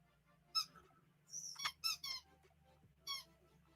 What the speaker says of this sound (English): Oh my God, that squeaking noise.